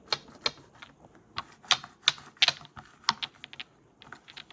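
Fingers type on a keyboard with crystalloid switches in an irregular run of sharp, clacky keystrokes, close and fairly quiet, with brief pauses between bursts.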